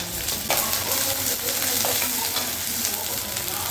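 Mustard seeds, urad dal, curry leaves and onions frying in hot oil for a bitter gourd gravy, a dense continuous sizzle with crackles and a couple of stirring scrapes, close and steady, with no talking.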